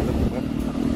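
A motorcycle engine drones steadily nearby, a low rumbling hum under continuous talking, with no distinct revving.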